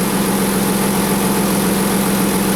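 A Nissan 300ZX engine idles after new fuel injectors are installed, a loud, steady, even drone with a constant low hum and no change in speed, heard up close and alone.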